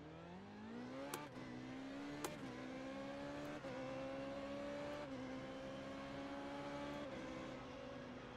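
A Formula 3.5 race car at full throttle at Imola in iRacing, engine screaming up through several gears in a row, each upshift marked by a sharp break before the rising whine climbs again, heard closely from the car.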